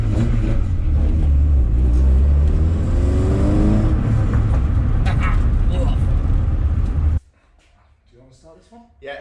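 A car is bump started on the road with another vehicle close on its bumper: a loud, heavy engine rumble with rising revs for about seven seconds, then it cuts off abruptly while voices talk.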